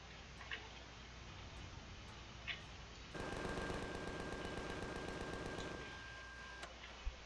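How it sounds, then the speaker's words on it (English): Spaceship guns firing in rapid automatic bursts in Empyrion Galactic Survival, a steady mechanical rattle lasting several seconds over a constant ambient game hum with a thin sustained tone, no talking. "It's my ship shooting something."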